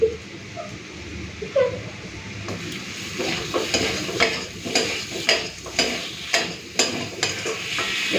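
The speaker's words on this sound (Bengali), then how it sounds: "এবার নেড়ে চেড়ে মিশিয়ে দিলাম" Chopped tomato gets stirred into potatoes and spices frying in a pan: a bright sizzle under rhythmic scraping strokes of a spoon against the pan, repeating roughly every half second toward the end.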